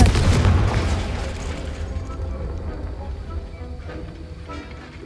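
A Confringo blasting spell in Hogwarts Legacy goes off as a loud, deep boom at the start, then rumbles and fades over several seconds of game ambience.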